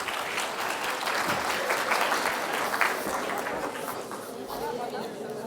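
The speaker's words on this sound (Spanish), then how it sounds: "Muy bien, un aplauso para todos ellos." Lecture audience applauding, a sustained crowd clapping that fills the hall for several seconds, with murmured chatter mixed in and a slight fade toward the end.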